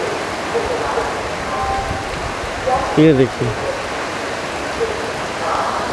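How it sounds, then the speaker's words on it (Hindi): Rain falls at a railway station beside a stopped passenger train, a steady broadband hiss that continues throughout, with a voice speaking briefly over it partway through. "और अब बारिश होने लगी है यहाँ।"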